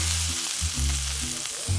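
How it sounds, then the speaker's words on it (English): Duck sizzling steadily in a hot frying pan, a constant crackling hiss with a low hum underneath. "now we're gonna put it in the frying pan for 4 minutes on each side."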